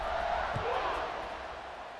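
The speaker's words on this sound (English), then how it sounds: "this crowd is buzzing after that last score" A stadium crowd in College Football 26 keeps up a steady, loud buzzing roar throughout the clip, and a commentator's voice is mixed in.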